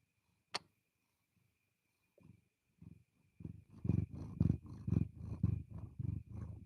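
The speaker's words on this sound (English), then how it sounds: "Your cat Bailey is purring along with Luna" Soft, rhythmic purring from a cat close up, building from faint scattered breaths into steady low rumbling pulses, with a brief click near the start.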